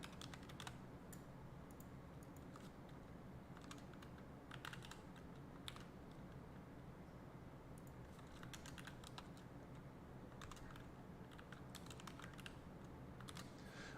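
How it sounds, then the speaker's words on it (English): Steady computer keyboard typing in a quiet room, clusters of fast keystrokes with short pauses throughout, fairly faint and with no voices. "Let me type this before I talk."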